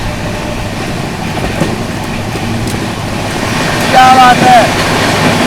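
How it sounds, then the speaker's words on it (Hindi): The Howrah Rajdhani Express, a high-speed train, roars steadily as it runs parallel to and overtakes the Coalfield Express, heard from on board as a loud, continuous rumble, with a brief voice near the end. "अपनी हावड़ा राजधानी पैरेलली ओवरटेक करने जा रही है कोल फील्ड एक्सप्रेस को।"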